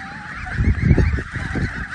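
Several geese honk close by as a flock of goslings heads out to pasture, their nasal calls overlapping in a busy flock chatter.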